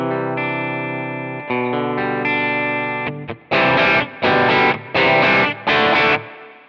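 Electric guitar through J.Rocket Melody and Rockaway overdrive pedals into an amp at the edge of breakup, with sustained ringing chords followed by four loud, evenly spaced strummed bursts with slight grit.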